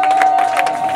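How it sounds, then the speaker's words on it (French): Church congregation cheering and acclaiming loudly, a dense sustained crowd roar with bursts of shouting and a steady sung or held tone running through it. "On acclame."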